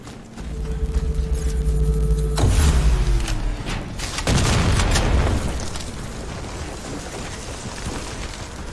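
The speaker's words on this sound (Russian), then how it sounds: "Радар сам себя не взорвет. Используйте РПГ." An RPG rocket blows up a radar in the shooter game Warface: two heavy booms, each rolling into a long rumbling blast that fades slowly.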